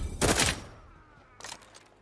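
A single sharp gunshot burst from a weapon in The Outer Worlds 2, loud and brief near the start, followed by a fainter second crack about a second later, with no talk.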